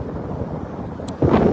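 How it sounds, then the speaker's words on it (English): Outdoor wind buffets the microphone in a continuous low rumble, then surges into a louder, harsher gust near the end; no one speaks. "it's going to be windy, so my voice might cut out because of the wind"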